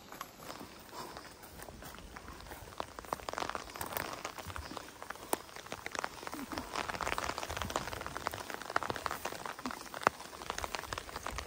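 Rain patters steadily on the ground and foliage while people gather mushrooms outdoors, mixed with close footsteps and rustling, and voices talk faintly now and then.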